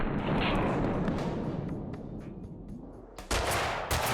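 Gunshots in Max Payne 2, a booming shot with a long decaying echo, then two more sharp, loud reports near the end, no voices.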